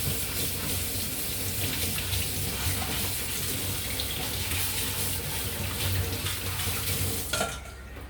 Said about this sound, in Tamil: நான் கூட ஒரு அரை டம்ளர் தண்ணி ஊற்றுறேங்க